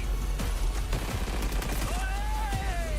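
Gunfire in Apex Legends, rapid overlapping bursts of shots and impacts, loud and dense for a few seconds under game noise.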